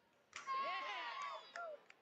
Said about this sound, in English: Crowd getting more and more excited with each successive catch